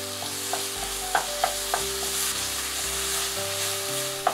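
Miso paste and chili puree being stirred in a hot frying pan, a steady sizzle with a few sharp utensil scrapes and taps against the pan, close and moderately loud, no voices.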